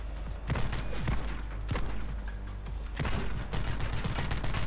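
Gunfire from the video game The Club in a prison cells level, repeated muffled shots and clatter in quick succession, steady and moderately loud throughout.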